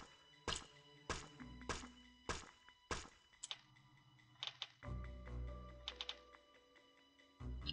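A tree being chopped for wood in a mobile survival game: a run of sharp, dry thunks in quick succession, then scattered lighter taps and a few more knocks, all close and fairly quiet.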